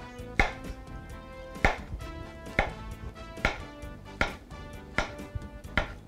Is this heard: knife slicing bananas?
yes